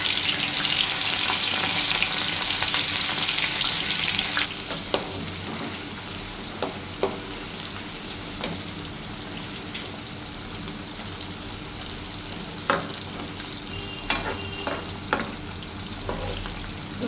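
Potato French fries frying in hot oil, a steady dense sizzle that is loudest early and settles into a softer crackle, with occasional sharp clicks of stirring or utensil taps; no talking.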